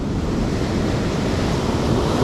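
Ocean surf rolls onto a shallow, uneven beach with lots of white water, a steady, close roar of breaking waves and wash mixed with wind rumbling against the microphone.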